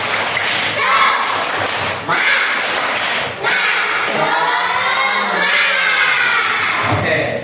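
A class of schoolchildren performs a rhythmic clapping chant together, loud and close, with children's voices shouting and cheering throughout and claps thudding in a steady pattern.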